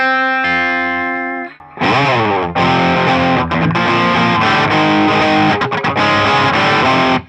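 Distorted electric guitar riff, played without chorus effect: a clean sustained chord fades before loud, dense distorted power chords hammer in a steady rhythmic pattern with brief choked gaps.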